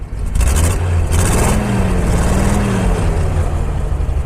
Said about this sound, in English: So we'll go ahead and give it a little throttle.